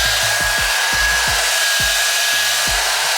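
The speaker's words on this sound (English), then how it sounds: "normally I would dry my hairline with the dryer" A hair dryer blows steadily and loudly at close range while drying the hairline of a clear lace wig. The airflow is continuous, with a soft, periodic low thumping underneath.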